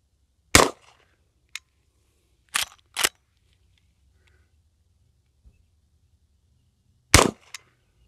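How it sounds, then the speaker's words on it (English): Henry All Weather side-gate lever-action rifle in .44 Magnum fired outdoors: four sharp, loud single shots at irregular intervals, two of them in quick succession, each followed by brief echo and silence between. "I'm shooting high because I'm aiming at the neck."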